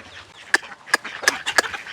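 Chickens at feeding time give a few short, sharp clucks in quick succession, fairly close, with quiet gaps between calls.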